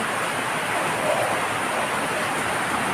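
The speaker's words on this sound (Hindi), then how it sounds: "गाइस देखो इतनी बारिश हो रही है, देखो" Heavy night rain pours steadily, a dense, continuous roar of drops with no break, close and loud throughout.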